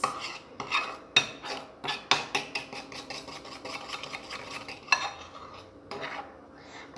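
Homemade slime mixture being stirred in a bowl, with irregular scraping and clinking of a utensil against the bowl's sides, close and continuous, with a few sharper knocks.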